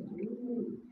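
Pigeons of a tumbler breed kept for auction coo in a steady, low murmuring run, close by and alone with no talk.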